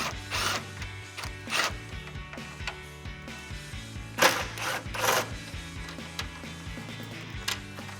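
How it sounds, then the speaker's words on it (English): Ratchet with a 10mm socket loosening grille bolts on a 2007-2013 Chevrolet Silverado 1500, close clicking pawl ratcheting in short bursts with metallic taps and clatter between strokes. "Go ahead and grab a 10mm socket and get these removed."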